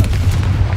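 A Confringo fire-blast spell explodes in the Hogwarts Legacy video game: a loud, dense burst of booming low rumble filling the whole moment, heavy and close with no voices.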